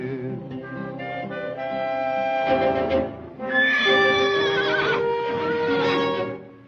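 A stallion whinnies loudly in a long, quavering neigh, breaks off briefly, then neighs again with rising and falling pitch, as in a western movie scene.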